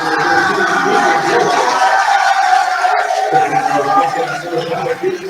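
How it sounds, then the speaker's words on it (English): Crowd noise in a high school gym during a girls' basketball game between Brookings and Pierre, a steady murmur of voices and cheering swelling slightly, loud and continuous throughout. "Crowd coming to life a little bit"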